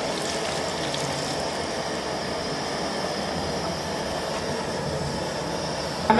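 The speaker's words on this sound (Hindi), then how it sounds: "दूध को छन्नी की मदद से छान लेंगे।" A kilo of milk strained through a sieve into a pot for beef shorba makes a steady, unbroken rushing pour, close and even in loudness from start to finish.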